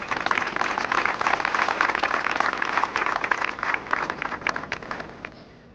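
A parkrun crowd claps for its runners: dense, continuous applause from many hands close by, holding steady for several seconds before fading out at the end.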